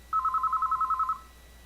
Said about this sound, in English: The telephone begins ringing again right away.